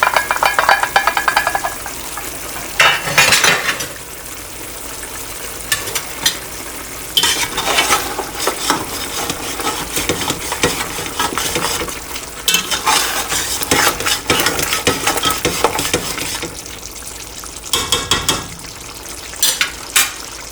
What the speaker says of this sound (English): it's been 35 minutes and we're just going to give it a stir just to make sure it doesn't stick